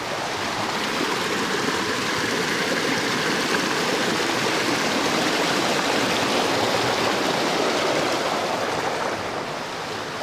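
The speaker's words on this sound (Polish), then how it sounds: "Tu jest rzeczka." Small mountain river flowing, a dense continuous rush of water heard up close, steady and loud throughout with no speech.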